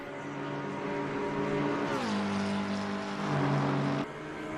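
GT3 race cars at Monza in Assetto Corsa Competizione roar through a sim race, engine notes dropping and rising through gear changes, a steady loud drone with no talk.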